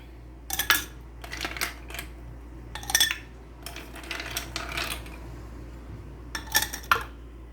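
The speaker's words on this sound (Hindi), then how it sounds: "इसके अंदर बर्फ़ डालेंगे।" Ice cubes clink and clatter into a glass of almond syrup drink (badam sharbat) in a home kitchen, several separate bursts of sharp clinking spaced across the clip with quiet gaps between, no talking.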